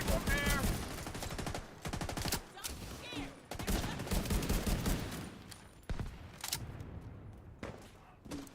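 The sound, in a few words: gunfire in a video game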